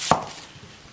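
A single sharp chop of a handmade Chinese cleaver through an onion onto a board, one crisp close impact followed by quiet.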